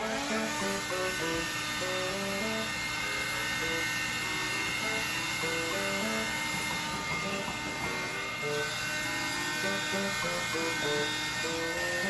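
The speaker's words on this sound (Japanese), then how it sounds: "ドライヤーでまず肩作り" A hair dryer blowing steadily while hair is styled and shaped, giving a constant loud whooshing motor hum throughout with a voice faintly audible beneath it.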